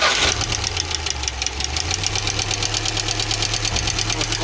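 A UMZ-4216 engine idles steadily with a rapid, even ticking valve knock from the rocker shaft area, loud and close, with a low engine drone underneath and no talk.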